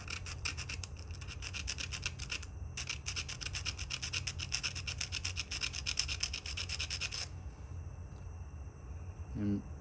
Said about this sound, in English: Now I'm gonna take a grinder and just grind it off flat right there.